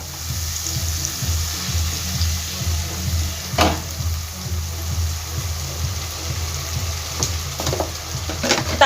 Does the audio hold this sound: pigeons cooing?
no